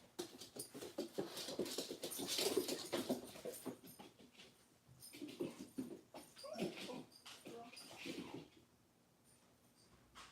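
A dog whimpering and whining at a closed door, a string of high, nasal yelps and whines in irregular bursts with scrabbling noises between them, fairly close and with no talk.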